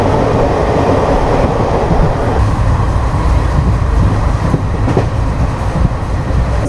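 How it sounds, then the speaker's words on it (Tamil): The Guruvayur Express rolls into Virudhunagar station, a loud, close, continuous rumble of wheels and carriages with faint rhythmic clatter throughout. "குருவாயூர் எக்ஸ்பிரஸ் வந்துட்டு இப்போ உள்ளே போயிட்டுருக்கு, விருதுநகருக்குள்ளே போயிட்டுருக்கு"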